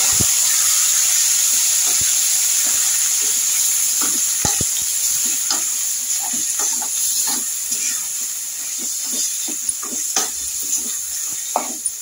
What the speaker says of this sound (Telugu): ఇప్పుడైతే మనం దంచుకున్న పచ్చడి కూడా దీంట్లో వేసేసేద్దాం.